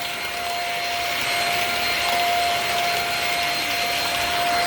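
A Shark stick vacuum cleaner runs continuously close by, a loud steady whine with a sharp constant tone riding over a broad airy rush, slightly rising and then holding level, with no talking.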